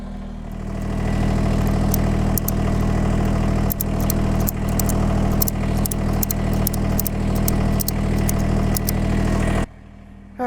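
A little tractor's engine idles steadily at close range, a constant low rumble with faint metallic ticking on top, running alone until it cuts off abruptly near the end.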